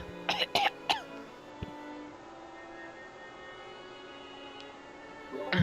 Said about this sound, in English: No, I was coughing, sorry.